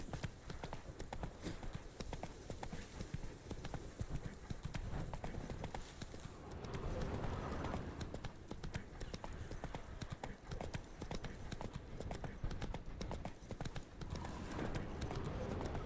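Hooves of Roach, the horse in The Witcher 3, pound in a fast galloping clip-clop that runs steadily and close, with a faint voice briefly underneath.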